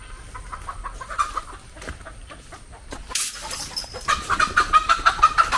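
Chickens cluck nearby, first scattered, then a quick run of loud, repeated clucks toward the end, with faint background noise.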